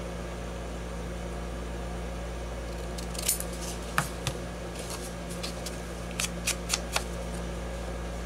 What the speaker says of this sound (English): I'm just cutting it with my scissors.